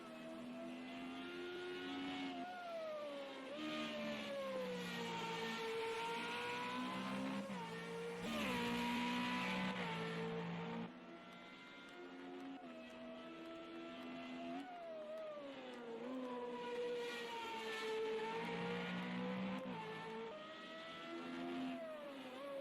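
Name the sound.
FR35 race cars racing at Watkins Glen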